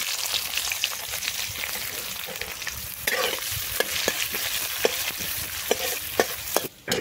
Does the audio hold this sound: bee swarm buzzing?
no